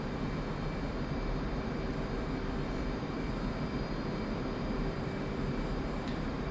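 A steady, even aircraft engine drone fills a video game flight, a continuous broadband roar with a faint tonal hum and no voices over it.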